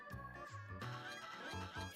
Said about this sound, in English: Furious bird noises.